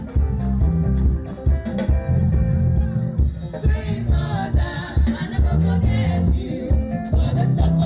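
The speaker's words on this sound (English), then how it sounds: "The actual music played during these festivities sounds like this." Dense, busy traditional African funeral music with steady drums and layered melodic parts, played continuously at moderate volume.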